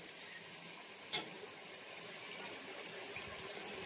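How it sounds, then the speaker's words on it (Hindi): Garlic ginger paste frying with tomato masala in a pan, a soft continuous sizzle with one sharp tap of a utensil early on, faint and close. "इसे हम फ्राई कर लेंगे।"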